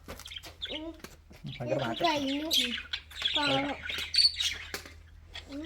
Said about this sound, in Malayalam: അത് തത്തയല്ലടി അത് ലവ് ബേർഡ്സ്